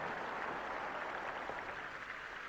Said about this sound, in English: Big reception from the capacity crowd.